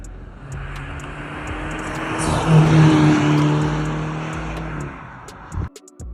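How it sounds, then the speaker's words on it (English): A nearly stock BMW F30 car with an aftermarket intake accelerates loudly nearby. Rising engine tones swell through the middle and then fade, with a faint turbo spool whistle and a brief clatter at the end. "that's the most they're gonna get is a little turbo spool"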